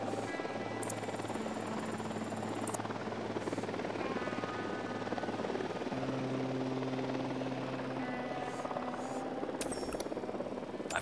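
A military helicopter in the tactical shooter Ghost Recon Wildlands drones steadily with a constant buzzing rotor and engine hum for over ten seconds, joined by brief electronic game tones and beeps, with no speech.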